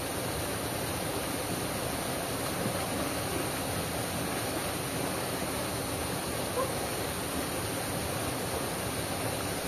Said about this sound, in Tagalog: Ang gandang pakinggan talaga ng tunog ng lagaslas ng tubig mula sa tarol